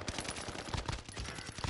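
Rapid automatic gunfire in a video game, bursts of close, punchy shots rattling in quick succession over a short stretch, loud and alone without talk.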